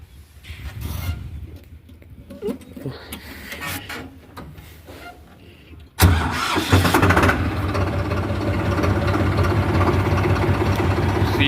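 A tractor engine parked at a bale factory store cranks quietly for several seconds, then catches with a sudden loud burst and settles into a steady, close, rumbling idle.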